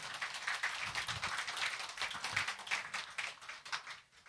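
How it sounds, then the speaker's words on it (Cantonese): A church congregation applauds at a Sunday worship service, a quiet, distant patter of many hands clapping unevenly throughout, with no talk over it. "俾啲掌聲好唔好啊？"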